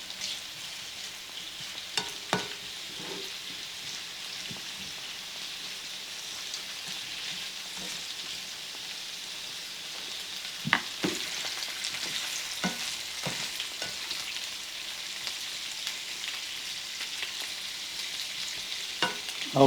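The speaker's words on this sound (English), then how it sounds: "we'll just let those weenies stay in there for a few minutes and start to cook up a little bit" Hot dog wieners frying in a skillet with a soft, steady sizzle, broken by occasional sharp clacks and scrapes as they are stirred and turned.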